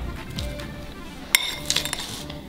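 Raspberries and lemon juice are stirred in a bowl, giving soft wet stirring followed by a few sharp clinks of a utensil against the bowl. The sounds are close and brief.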